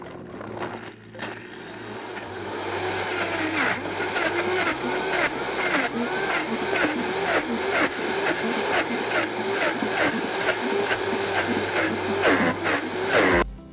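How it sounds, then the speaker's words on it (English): A Vitamix blender runs continuously and loudly on hard frozen dessert ingredients, with a tamper pressing them into the blades, giving a churning roar with rhythmic thumps and pitch wobbles before it cuts off at the end. "We're gonna go ahead and blend this frozen dessert now, and we're gonna use the tamper to help us press all these hard frozen ingredients down into the blades."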